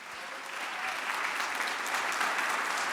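A round of audience applause at the Roots of Recovery 2023 community event: dense, steady clapping from a sizable crowd that holds evenly, growing slightly fuller toward the end.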